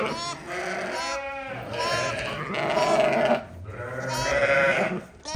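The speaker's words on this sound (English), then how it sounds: "Some ewes and lambs that we put out earlier." Ewes and lambs in a lambing field bleating loudly and repeatedly, several overlapping calls from close by, with some background voices and noise.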